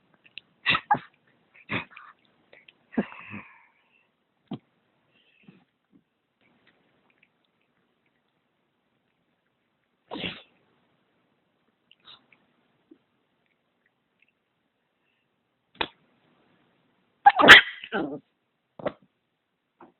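A dog gives several short, sharp barks in scattered bursts, with long quiet gaps between them and a louder cluster near the end.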